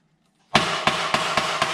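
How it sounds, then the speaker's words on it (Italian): A hammer strikes a part on the frame of a Piaggio Ciao scooter being rebuilt as a cross bike, five sharp metallic blows in a quick, even rhythm, close and clear. "sì, martelliamo"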